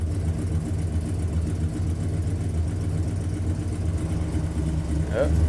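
An old, long-forgotten Dodge Monaco car engine running after years unstarted, a steady low idling rumble with a slight rise near the end, while people talk nearby.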